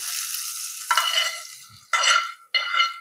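A hot salted tempering of urad dal and curry leaves is poured over coconut chutney, setting off three sharp bursts of crackling sizzle. Each burst fades quickly, with near silence between them.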